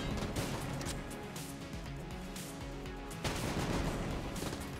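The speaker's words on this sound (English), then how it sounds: "There's so many grenades." Grenades and gunfire erupt in the video game Enter the Gungeon, a loud, dense barrage of rapid pops and crashing blasts that continues without a break.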